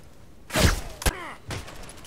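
Loud pistol shots in a deathmatch video game, three sharp reports spaced about half a second apart, close and punchy, each with a short ringing tail and no talk over them.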